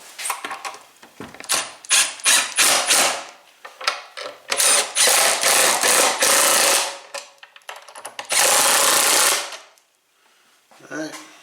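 A socket wrench ratchets hard while tightening bolts on shop table legs, loud close bursts of rapid clicking in uneven strokes, including one long sustained run, before a short pause and a final brief sound.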